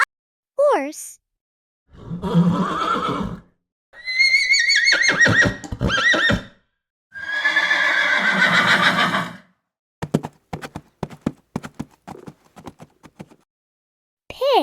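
A horse whinnies several times in separate bursts, each a shrill, wavering neigh, then a run of quick clip-clop hoofbeats follows near the end, close and clear with no talking.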